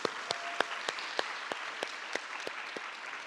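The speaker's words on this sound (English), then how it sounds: "I'd like to ask if you join me in giving a round of applause to our entertainment for tonight" An audience applauds a jazz band at an awards evening, with dense, steady clapping and individual sharp claps standing out throughout, loud and close, with no speech.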